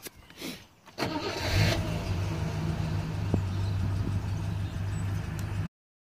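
A Rover P6 with a dodgy starter wiring fault cranks briefly, then catches and settles into a steady, close idle with a low engine hum before cutting off abruptly.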